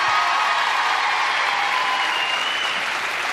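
Studio audience applause fills a French television variety show set as two young climbers are introduced, a dense steady clapping wash at even loudness throughout with no speech over it.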